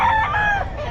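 A gold sweater bullstag rooster crows loudly and close at a busy pet market, one drawn-out cock-a-doodle-doo filling the second over a low murmur of crowd noise.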